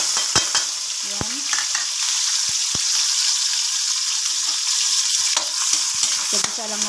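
Onion and garlic sautéing in oil left from frying chicken nuggets: a continuous close hiss of frying with scattered utensil clinks and scrapes from stirring in the pan.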